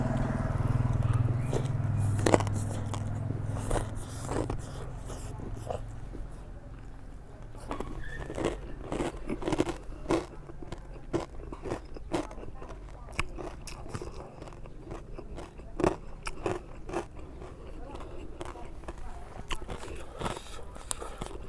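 Spicy noodles mixed with crispy pork rinds are chewed close up, with repeated crunchy bites and wet chewing throughout and a voice talking briefly over it.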